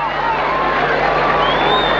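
A 7,000-strong crowd roars steadily through a 5000 m athletics race in a Saint-Denis stadium, a dense, loud wall of cheering that stays level throughout, with a commentator talking over it.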